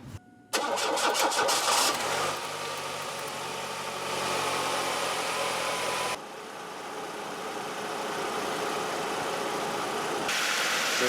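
A 1998 Chevrolet Cavalier with the 2.4 engine cranking briefly, then catching and revving up before settling into a steady idle, close and fairly loud, with a drop in pitch partway through.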